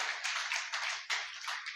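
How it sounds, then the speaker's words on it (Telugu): A church congregation claps in praise of the Lord, a quick, fairly faint run of hand claps with an uneven rhythm and no voices. "అందరము గట్టిగా చప్పట్లు కొడుతూ ప్రభువును మనము"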